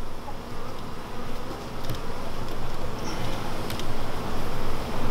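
Honey bees buzz in a dense, steady drone inside an opened two-queen beehive after a puff of smoke, a close, continuous hum with slight swells in loudness.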